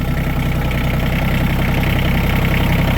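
A small tractor engine idles steadily at close range, a loud, even low rumble with a faint knocking pulse that holds without pause and no voices over it.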